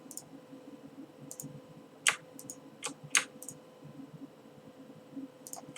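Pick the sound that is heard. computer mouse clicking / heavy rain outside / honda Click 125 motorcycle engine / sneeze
computer mouse clicking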